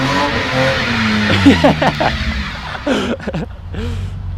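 A BMW E30 drifts with squealing, skidding tires over a revving engine, loud and close, with bursts of tire noise rising and falling as the car slides.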